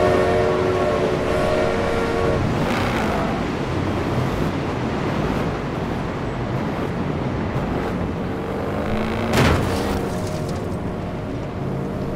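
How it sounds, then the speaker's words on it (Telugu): Train passing in the racing game Forza Horizon 4, a steady broad rumble with wave-like wash and a brief louder swell near the end, heard alone without talk. "ఓ ట్రైన్ వస్తుంది, ట్రైన్"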